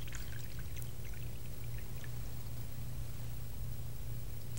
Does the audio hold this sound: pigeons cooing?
no